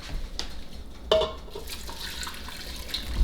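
Turkey stock is poured from a pan into a pressure cooker, a short close liquid splash and trickle with a few clinks against the pot.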